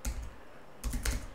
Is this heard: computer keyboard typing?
yes